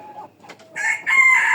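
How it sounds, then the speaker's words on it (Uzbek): A prize-winning rooster that won a big contest in Korea crows close and loud, a strained rising call building over a second after a few short clucks, with no voices present. "Koreyada katta dovrada yutgan bu xo'roz"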